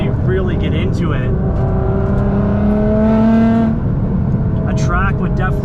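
A tuned 700-horsepower Nissan R35 GT-R accelerates hard along canyon back roads. The engine rises in a long, loud climbing whine through the gears, heard close from inside the car.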